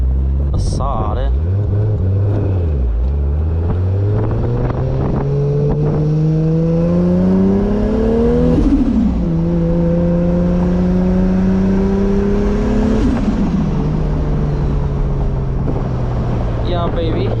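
Toyota Supra with a noisy worn T56 gearbox driving: engine droning and rising through revs with gear-change dips, a steady whine under it, loud and close from inside the car.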